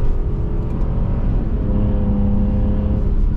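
A Porsche Cayenne V6 is pushed hard through corners, its engine droning loud and close with a steady, slightly shifting pitch as it holds revs, no voices over it.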